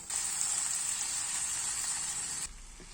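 A steady, bright sizzle of purslane frying in tomato paste hisses evenly in a pan for a couple of seconds, then cuts off abruptly to a quieter background.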